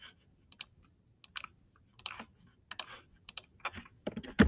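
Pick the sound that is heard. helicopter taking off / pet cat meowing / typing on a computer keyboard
typing on a computer keyboard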